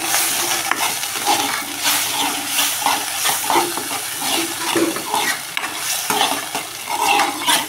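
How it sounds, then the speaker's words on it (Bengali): Pumpkin leaf mash being stirred in a hot pan, a steady scraping and sizzling texture that runs continuously throughout with small irregular clatters, close and fairly loud, with no talking. "ভালো করে নাড়াচাড়া করতে হবে।"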